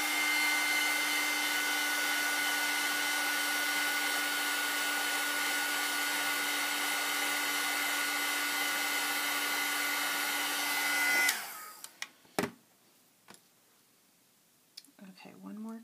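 A hair dryer drying paint on a metal flower embellishment, a loud, steady blowing whine held close for about eleven seconds before it switches off, followed by a few faint clicks and handling sounds.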